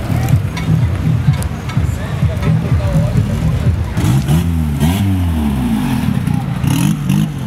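A Volkswagen Gol G4 car engine revs at a street car gathering, a loud rising and falling motor roar with a clear pitch sweep midway, while people talk nearby.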